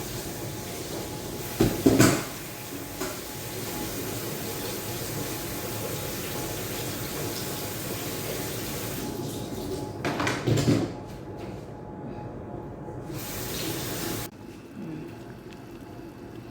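Salmon is rinsed under a running kitchen tap, giving a steady, moderate hiss of flowing water with a couple of brief knocks.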